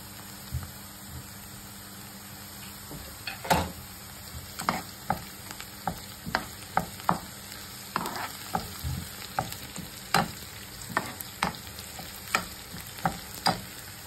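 Bay leaves and dried red chillies frying in oil, a soft, steady sizzle punctuated by sharp pops and crackles at irregular intervals.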